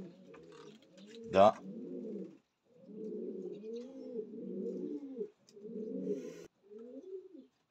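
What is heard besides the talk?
racing pigeons cooing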